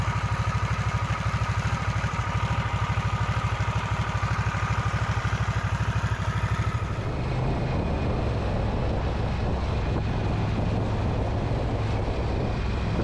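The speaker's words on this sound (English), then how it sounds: "That exhaust note is definitely not traditional Harley sounding." A Harley-Davidson Nightster Special motorcycle's exhaust drones loud and steady, a deep pulsing rumble that shifts in tone partway through as it rides on.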